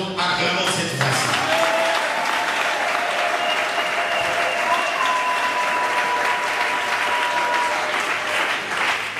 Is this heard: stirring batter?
no